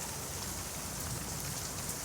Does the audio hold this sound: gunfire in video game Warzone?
no